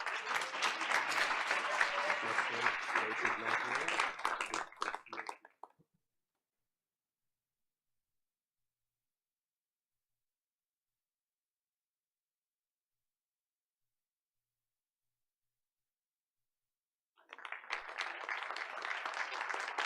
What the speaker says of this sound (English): Let's hear it for Heidi McQueen